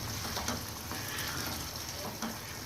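Arvi masala curry with crushed kasuri methi and fresh coriander is stirred in a hot pan, giving a steady soft sizzle with faint scraping strokes throughout.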